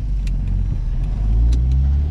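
A 1984 Volkswagen Parati's engine runs close by with a loud, steady low rumble that swells slightly as it is revved gently toward the end.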